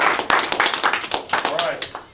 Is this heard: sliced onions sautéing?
no